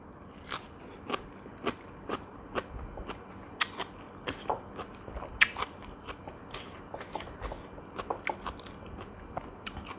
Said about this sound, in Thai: กะหล่ำปีดองนี่ ยังกรอบอยู่เลยนะ